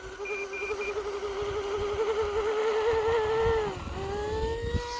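An E-flite V-22 Osprey RC model aircraft's electric motors whine loudly at takeoff in light wind, a close, buzzing, insect-like drone that holds steady and then drops and rises in pitch as the rotors tilt.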